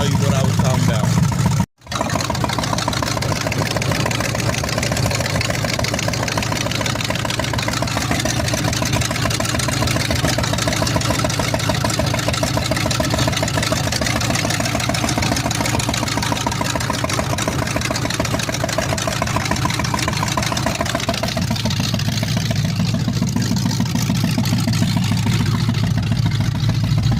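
A newly installed car engine idles steadily and loudly throughout, a continuous low droning rumble with one brief dropout early on.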